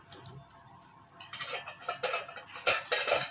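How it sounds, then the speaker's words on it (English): Curd being stirred into chicken biryani gravy in a metal pot, Chennai style, with a scraping spoon and soft clinks building from quiet to a few louder close strokes near the end. "mix it well."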